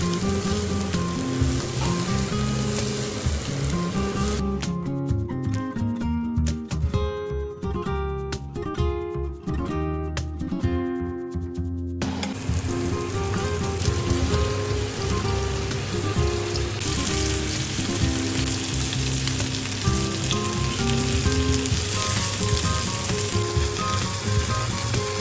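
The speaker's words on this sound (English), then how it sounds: "this is the part where we saute the celery, carrot and onion" Celery, carrot and onion sautéing in a pan, a continuous close sizzle and crackle with light stirring over steady backing music.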